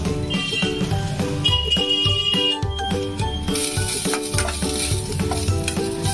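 Ginger paste sizzles in a pan while being stirred, a busy close fry hiss with repeated metallic scrapes and clinks of the spoon against the pan, continuous and fairly loud.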